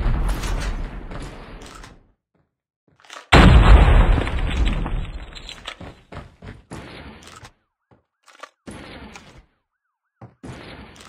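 A frag grenade detonates in Call of Duty Mobile's Search and Rescue mode as one loud, sudden blast that rolls off over a second or two, followed by scattered clanks and gunshots in the game.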